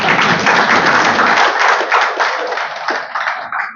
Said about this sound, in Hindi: तो अनंत जी और नीरजा के लिए ताली बजाइए।